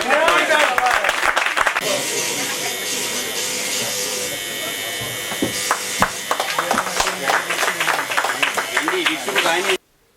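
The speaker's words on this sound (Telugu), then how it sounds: "హార్డ్ వర్కింగ్ చేసే వాళ్ళు గట్టిగా చప్పట్లు కొట్టాలి సార్" A crowd at a lucky draw event at a Rathod Sons store claps, with scattered hand claps under a buzzing loudspeaker voice that builds into quicker clapping before it cuts off abruptly.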